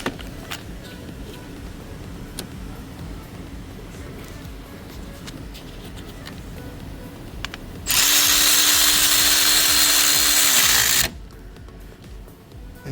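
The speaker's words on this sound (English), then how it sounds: "I'm gonna finish them with the ratchet all the way in" A powered ratchet tightening spark plugs on a Lexus RX350 engine gives one loud, steady whirring burst of about three seconds, following a stretch of quieter workshop noise, then stops abruptly.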